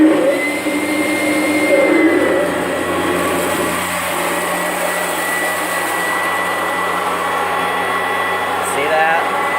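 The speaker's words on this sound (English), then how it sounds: "So this is the Oreck Edge." An Oreck Edge vacuum cleaner runs steadily with a loud, even whooshing drone and a faint whine, close by throughout.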